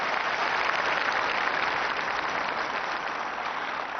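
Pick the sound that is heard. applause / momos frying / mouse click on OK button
applause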